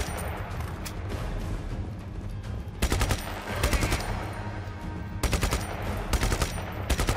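Assault rifle fire in Just Cause 3 comes in two close, loud automatic bursts of rapid shots over a constant background rumble of explosions and game noise.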